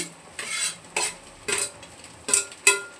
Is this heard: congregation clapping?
no